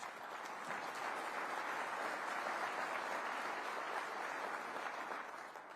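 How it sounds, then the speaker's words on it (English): An audience at the 2022 Patriot Day Remembrance Breakfast bursts into a sustained round of applause, many hands clapping evenly for several seconds before tapering off slightly at the end. "How about a nice round of applause for all of those?"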